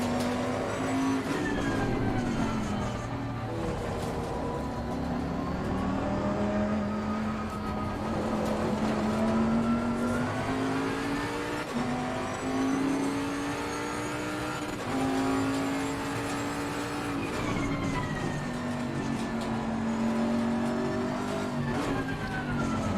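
Race car engines in the video game Assetto Corsa Competizione, a loud, continuous drone whose pitch rises and falls with acceleration and shifts, with other cars close by and occasional tyre skids.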